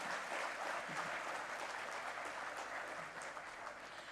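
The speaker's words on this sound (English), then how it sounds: "So can I have a big round of applause for all of you?" A hall full of people applauds at the inauguration of an EPGP program batch, dense, even clapping that holds steady and tapers slightly near the end, with no voices over it.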